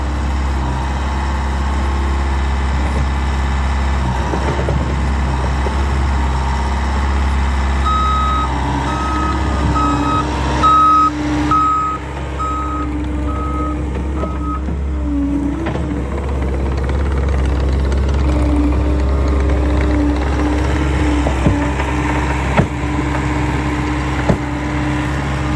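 A Bobcat skid steer runs on a rural site with a loud steady engine drone, while a series of evenly spaced reversing beeps sounds partway through before the machine keeps rumbling.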